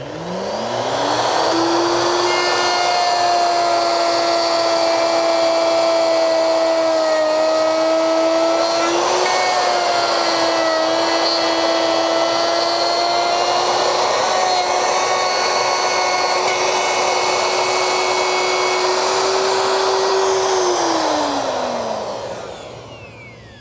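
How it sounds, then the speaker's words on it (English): Handheld router fitted with a round bit cutting a stopped dado in plywood: a loud, steady high-pitched whine that spins up, holds through the cut with slight pitch wavering under load, then winds down. "So now when I route this groove, this dado rather, it'll come up, bump against the stop block"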